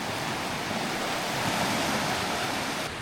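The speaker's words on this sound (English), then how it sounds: "over this side of this little bridge is a weir" Water pours steadily over a small weir beside a lake near a little bridge, a loud, dense, continuous rushing roar that holds unchanged throughout with no voices.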